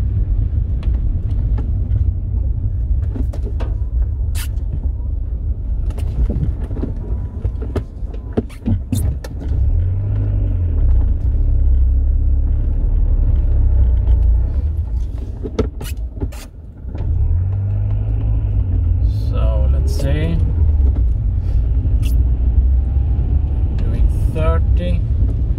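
A car drives through rain, its engine rumbling steadily up close as it slows and then picks up speed again, with intermittent spatters and someone talking over much of it.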